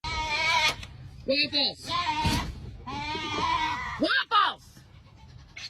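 Goats bleat loudly and repeatedly at close range on a farm, with a person's voice speaking between the calls.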